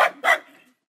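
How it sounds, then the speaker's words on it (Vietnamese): A dog gives two quick, sharp barks close by, the second trailing off into a brief fade. "Chó."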